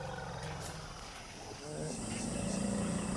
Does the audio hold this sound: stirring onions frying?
no